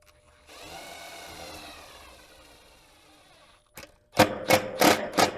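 A power drill whirs steadily for a few seconds, falls quiet, then gives several short, sharp bursts as a 1/4 inch zip screw is driven home while installing an AC soft start, close up.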